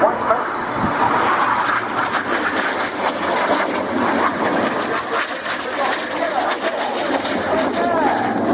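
Aerobatic jets roar past at an RAF Cosford air show, a loud, sustained engine rush that holds steady throughout with no gaps.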